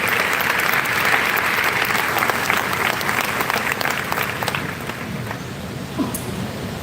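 A church congregation applauds during a pastor's sermon service, a dense, steady roar of many hands clapping that fills the room at close range and eases slightly toward the end, with no talking over it.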